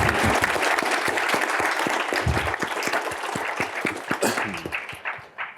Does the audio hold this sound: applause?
yes